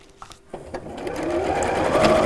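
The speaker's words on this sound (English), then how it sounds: "sew straight down the edge with your 1/4 inch seam allowance" Sewing machine stitching a straight 1/4 inch seam on a patchwork pin cushion, starting after a few handling clicks and building into a steady, close motor whir that runs on continuously.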